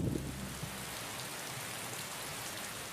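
Heavy rain pours over flooded plains, a steady, dense hiss that holds at an even level throughout, with a brief low rumble at the very start.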